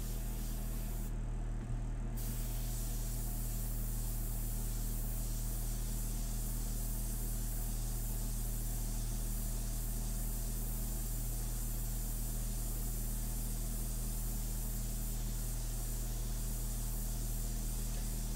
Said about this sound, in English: That's a very interesting airbrush, right?